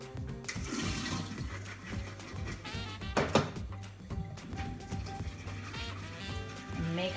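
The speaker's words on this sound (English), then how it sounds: "since your nuts are already soaked, let's go ahead and give them a good rinse" Running water pours over soaked almonds in a kitchen strainer, a steady close splashing wash that lasts throughout with a brief louder gush midway.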